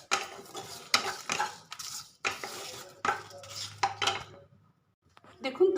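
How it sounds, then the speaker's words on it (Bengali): Cinnamon and two dried red chillies are dry roasted in an empty wok, a metal spatula scraping and clattering in bursts with a faint sizzle between strokes, close and fairly loud. "এই কটা আমি ঢেলে দিচ্ছি কড়াইয়ে, দিয়ে শুকনো কড়াইয়ে ভেজে আমি হালকা করে 2 মিনিট এটাকে টেলে নেব।"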